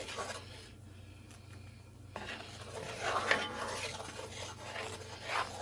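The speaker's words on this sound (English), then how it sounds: "And just stir it, keep stirring it." Sirloin beef tips with mushrooms and onions stirred in a pan, with quiet rasping scrapes of a utensil against the pan bottom over a low steady hum, faint and close.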